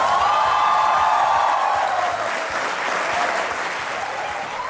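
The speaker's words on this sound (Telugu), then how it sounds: "మీరు క్లాప్స్ ఆపకండి," Loud, sustained applause from a television studio audience at a celebrity talk show, dense clapping filling the whole stretch with some cheering and whoops mixed in, fading slightly toward the end.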